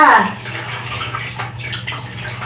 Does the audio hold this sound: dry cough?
no